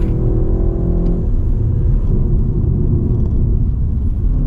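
A turbocharged 2019 BMW 330i G20 M Sport pulls uphill on a mountain road, its steady low engine rumble and road noise filling the cabin evenly and loud throughout, with a faint rise in pitch early on.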